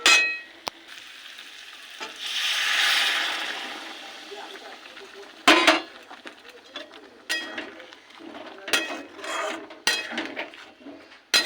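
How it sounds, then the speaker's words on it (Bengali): Hot water is poured into cauliflower frying in oil for a moong dal cauliflower ghonto, producing a loud swelling sizzle that fades, followed by scattered metal clinks and scraping from stirring in the pan. "ফুলকপি কষে তেল ছেড়ে এসছে, এবার দিয়ে দেবো গরম জল।"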